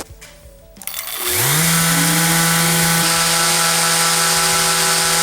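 A Festool ETS EC 125 sander switches on after a quiet moment, its whine rising quickly to a loud, steady high-pitched drone that continues to the end at close range.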